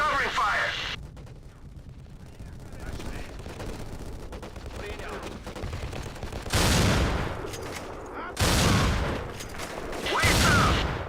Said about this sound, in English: Get me some fucking covering fire.